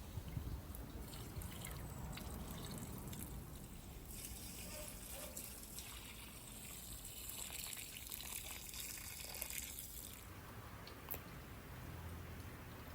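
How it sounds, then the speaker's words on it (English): Water from a rain barrel spigot trickles and splashes into garden planters in a steady, faint outdoor stream, continuing softly throughout with small rustles and clatters. "Let's go ahead and water some of these planters."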